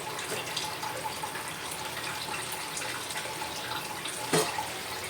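Fish gravy simmers in a pan as pieces of fried pomfret go in, a steady hiss of bubbling liquid with one brief sharper splash near the end.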